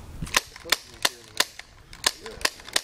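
Airsoft pistol firing a string of sharp, snappy cracks, about eight shots spaced roughly a third of a second apart, close and crisp against a quiet background.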